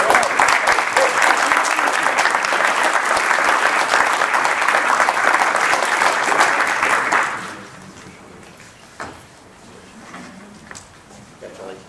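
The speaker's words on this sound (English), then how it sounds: "Can we give her a round of applause?" Audience at an education board meeting applauding a scholarship recipient, a loud, dense round of clapping for about seven seconds that drops away abruptly into quiet room noise with faint voices.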